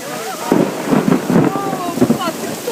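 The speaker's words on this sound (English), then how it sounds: "I cannot believe it's hailing." Hail and heavy rain pelting during a thunderstorm on the Susquehanna River: loud, dense hissing and clattering with low rumbling, wind buffeting the microphone, and people's voices faintly beneath.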